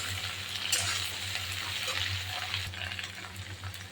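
Taro leaves frying in a pan with small shrimp, a dense continuous sizzle and crackle as the greens are stirred and turned, close-up and steady with a low hum underneath, no voices.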